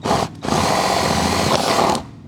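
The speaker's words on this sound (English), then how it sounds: "We're going to drill out our cup holder." Power drill boring a hole through a car cup holder in a Prado 250 during a dual battery install, a loud steady whine that stops briefly near the start, then runs on before winding down.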